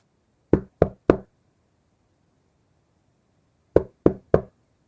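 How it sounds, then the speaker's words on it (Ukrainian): Knuckles rap on a classroom door in two crisp sets of three knocks, separated by a pause of about two and a half seconds, loud and close against silence. "хтось постукав у двері"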